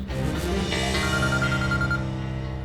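A melodic electronic ringtone playing sustained tones, loud and close, continuing without pause for the whole stretch.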